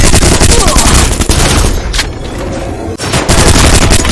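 Gunfire in the Free Fire video game, dense bursts of shots and booms packed tightly through the whole stretch, loud and steady with a brief dip near the end, under a game soundtrack.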